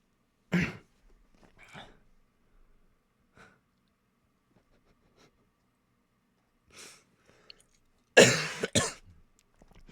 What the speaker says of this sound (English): that cough was in character as well as out of character